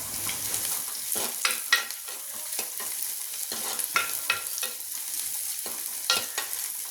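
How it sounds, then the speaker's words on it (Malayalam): Small onions, shallots, fry and sizzle in a pan for a Kerala pappadam thoran, with a steady crackle broken by repeated scraping stirs, close and fairly quiet, with no talking. "കൊച്ചുള്ളി ഒന്ന് മൂപ്പിച്ചെടുക്കാം"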